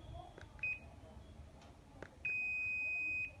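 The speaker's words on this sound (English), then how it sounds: "It is long beep." A Daikin air conditioner remote gives a short high beep, then after a pause a single long steady beep lasting about a second, signalling an A6 error code, over faint room noise.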